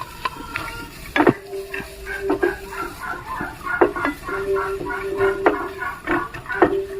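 Onion tipped into a hot pan with a little coconut oil for a breakfast egg chappathi roll, stirred with clinks of a utensil against the pan over a steady light sizzle, with repeated scraping strokes.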